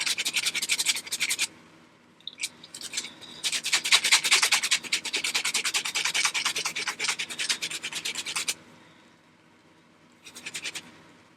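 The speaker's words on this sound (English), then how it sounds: "we used the foam-based cleanser and just scrub, scrub, scrub," A beauty blender sponge is scrubbed with a foam cleanser in bursts of close, brisk rubbing strokes, with short pauses between rounds and a final brief scrub after a gap.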